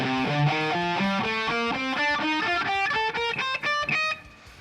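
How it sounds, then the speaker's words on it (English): Guitar runs up the Ionian mode in a three-note-per-string shape: a quick, even stream of single picked notes climbing in pitch, clear and close, ending with a short ringing fade. "As a 3-note per string shape, it's going to sound like this."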